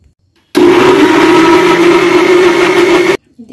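A blender grinds pineapple with water into juice, a loud steady whirring drone that starts abruptly, runs for about two and a half seconds, then cuts off.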